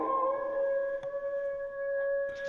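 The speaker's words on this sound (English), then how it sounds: "How far off did the howl sound?" A long, steady howl from a dog or wolf, somewhat faint and far off, holding a sustained tone with a few clicks and a brief scrape near the end.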